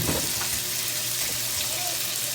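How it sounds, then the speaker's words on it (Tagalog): Tofu sizzles loudly in a hot pan as it is sautéed for a mung bean stew, a constant bright hiss with faint clinks of stirring underneath. "lagyan na natin mga lods yung ating tukwa"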